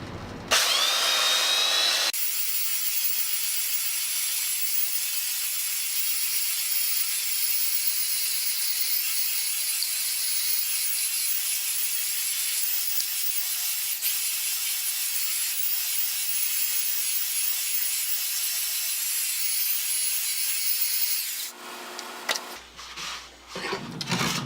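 A power sander works over recycled wood boards for a saw till, a loud, steady high-pitched whine held for about twenty seconds after a brief start-up, then winding down with a few short bursts at the end.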